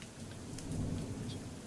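Rain falls steadily alongside a low, rolling rumble of thunder, heard from a sheltered spot on the ground beneath a ledge, continuous and fairly close with no voices.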